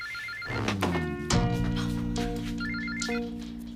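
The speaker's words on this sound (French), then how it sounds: "Téléphone!" A home telephone rings with a bright repeating electronic bell, with two ring bursts separated by a pause and a thunk in between, close and fairly loud, with no talk.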